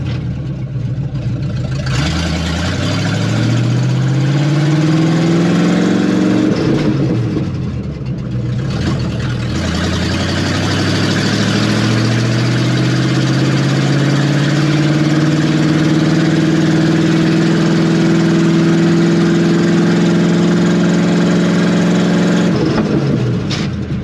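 A restored old vehicle's engine runs in first gear, loud and steady close by, its pitch rising as it pulls away, with a brief dip around the middle before climbing again; no talking.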